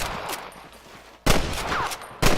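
Bursts of gunfire in Red Dead Redemption 2 ring out in loud, sharp volleys, with two heavy blasts in quick succession after a quieter stretch of distant shots.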